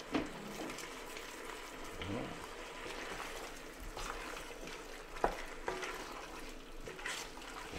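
Oxtail and tomatoes frying in a pan, a quiet steady sizzle with occasional stirring scrapes and small pops, faint and close.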